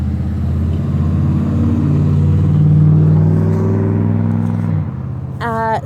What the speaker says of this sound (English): So, of course, here comes more traffic.